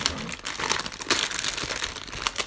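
A squishy toy's plastic package is torn open by hand, giving loud, close crinkling and tearing in uneven bursts with no talking.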